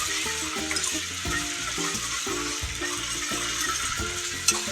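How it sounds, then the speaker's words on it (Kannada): Ginger garlic paste frying in oil for a restaurant-style egg masala gravy, a steady close sizzle with rhythmic stirring and scraping in the pan throughout, no talking. "ಅಲ್ಲ ಬೆಳ್ಳುಳ್ಳಿ ಪೇಸ್ಟ್ ಫ್ರೈ ಆಗಬೇಕು. ಚೆನ್ನಾಗಿ ಎಣ್ಣೆಯೊಳಗೆ ಫ್ರೈ ಆಗಬೇಕು."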